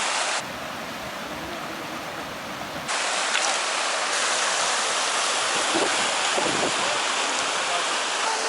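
A cold mountain river rushes in a steady broadband roar during a crossing between Tusheti and Khevsureti, close and continuous with a brief change in texture partway through.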